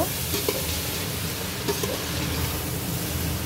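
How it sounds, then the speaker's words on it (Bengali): Loud, steady sizzling of soya chunks frying in a pan with vegetables, with occasional scraping knocks of a utensil stirring through it. "সয়াবিনগুলো দিয়ে দিলাম, দিয়ে ভালো করে আবার একবার চালিয়ে নেব, সুন্দর করে মিশিয়ে নেব।"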